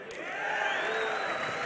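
A large crowd at a DreamHack Winter esports grand final roars and cheers continuously, swelling in loudness and holding steady as a dense wall of voices.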